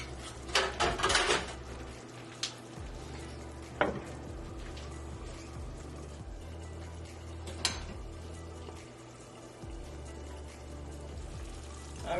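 Eggs poaching under a lid in simmering shakshuka tomato sauce with feta, giving a soft steady sizzle and bubbling with a few clinks of a pan and lid near the start.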